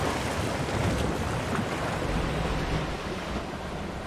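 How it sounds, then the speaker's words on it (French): A roller coaster in the Planet Coaster video game passes through waterfalls, giving a steady, loud, broad rush of splashing water and wind with no voices. "on passe dans les cascades"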